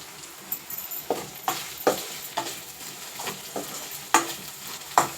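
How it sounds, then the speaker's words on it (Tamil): Curry leaves crackling in hot oil with ginger-garlic paste and onions, cooking for a pepper mushroom fry, while a spoon scrapes the pan in irregular stirring strokes, each stroke a sharp near scrape over a steady low sizzle. "இப்போ கருவேப்பிலை சேர்க்க போகிறோம்."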